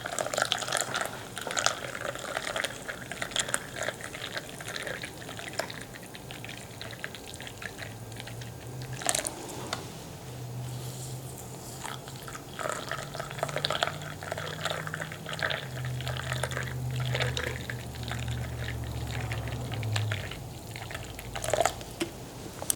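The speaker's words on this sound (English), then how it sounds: "grab your water and saturate the coffee grounds" Water pours steadily over coffee grounds in a cup for cowboy coffee, a soft continuous trickle and drip, quiet and close, with faint splashes and a low hum underneath.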